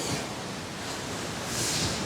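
Sea waves wash up on Divis Beach in Andhra Pradesh, a dense, steady roar of surf with a swelling rush near the end, heard alone without voices.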